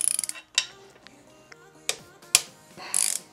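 Ratchet wrench removing cam holder bolts on a Honda CBR 954RR motorcycle, short bursts of quick clicking separated by metallic taps and pauses, close and clear.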